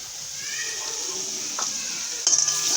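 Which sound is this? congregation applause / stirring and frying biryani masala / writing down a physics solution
stirring and frying biryani masala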